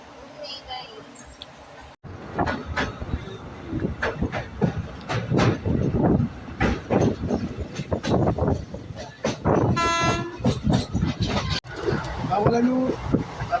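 A train in the Konkan region rumbles and rattles steadily with rhythmic clanking, while people talk over the noise nearby.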